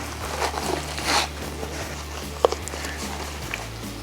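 Membrane being peeled off raw ribs with a paper towel, a few soft, rasping tearing bursts early on, then a sharp click and faint crackles over a steady low hum.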